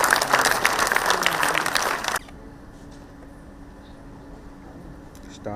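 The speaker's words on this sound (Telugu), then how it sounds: "గట్టిగా చప్పట్లు అందరూ" Loud audience applause fills a Telugu stage event as a guest is invited up, a dense burst of clapping that cuts off sharply after about two seconds, leaving a quiet room murmur.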